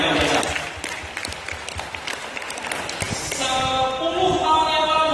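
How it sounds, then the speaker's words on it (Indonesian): Audience clapping at an expo talk show rises and swells over several seconds, a dense patter of hands with some voices mixed in, growing fuller toward the end. "Jadi sekali kita tepuk tangan untuk UKM yang biasa"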